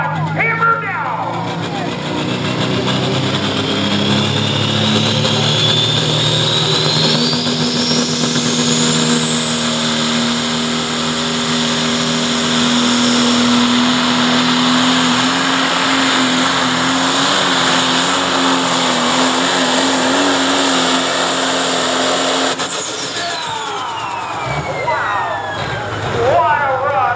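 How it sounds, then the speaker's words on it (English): An old-school John Deere 5020 tractor roars at full throttle through a long tractor pull run, with a loud sustained engine drone and a rising whine that swells and then drops away near the end, while an announcer talks over it. "Steve Ordner, John Deere 5020."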